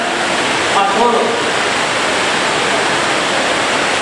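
Loud, steady roar of heavy rain falling, with a voice briefly speaking beneath the downpour early on.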